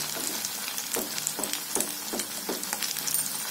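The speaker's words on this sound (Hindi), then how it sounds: "घी को साइड से हमें इसके ऊपर ऐसे डालते जाना है" Ghee ladled around the sides of malpua frying in a pan, a continuous close hissing sizzle with soft rhythmic bubbling pulses and no talk.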